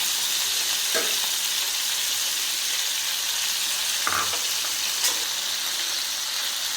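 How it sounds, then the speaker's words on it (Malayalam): Salted prawns fry in hot oil for a prawn paneer butter masala, a steady bright crackling sizzle with a couple of light utensil knocks, close and uninterrupted by talk. "നമുക്ക് ഈ എണ്ണയിൽ തന്നെ പ്രോൺസ് കൂടെ നമുക്ക് ഫ്രൈ ചെയ്തെടുക്കാം അല്പം ഉപ്പൂടൊന്ന് ചേർത്ത് കൊടുക്കാം"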